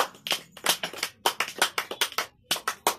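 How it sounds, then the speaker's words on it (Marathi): Villagers give a short round of applause, a small group clapping in rapid uneven bursts that rise and fall over a few seconds, close and clear with brief pauses. "यासाठी तुमच्या गावाच्या अभिनंदनासाठी एकदा टाळ्या होऊ द्या"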